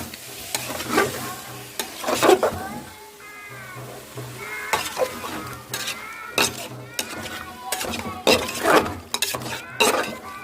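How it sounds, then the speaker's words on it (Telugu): Chicken pieces stirred in oil in a pan while making chicken fry piece biryani, giving repeated close scraping and light sizzling strokes, with brief pauses between bursts. "దీన్ని కూడా బాగా కలపెట్టుకోవాలి తర్వాత కొంచెం లైట్గా ఆయిల్ వేసుకుంటే సరిపోతుంది"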